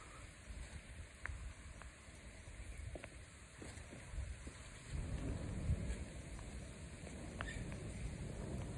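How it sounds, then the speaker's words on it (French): A violent electrical thunderstorm over Clermont-Ferrand in Auvergne, with steady heavy rain and repeated rumbling thunder that grows louder and more continuous partway through, with no talk. "Ça fait depuis 4h30 qu'on a des gros orages très ventreux et très foudroyants."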